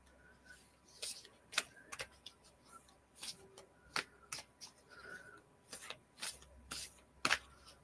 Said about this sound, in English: I'll just pick a card for you.